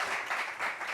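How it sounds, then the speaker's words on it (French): Steady, full applause from a meeting audience, a continuous wash of many hands clapping at moderate loudness throughout the short stretch, with no voices over it. "Applaudissements pour lui."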